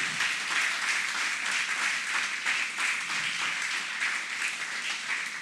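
A church congregation claps and applauds steadily and loudly during a worship service, a dense wash of hands that holds without a break from start to finish.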